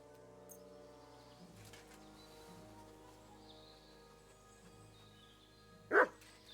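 A single sharp dog bark rings out near the end of a quiet scene from Kingdom Come: Deliverance II, set against a faint ambient background of soft game sounds.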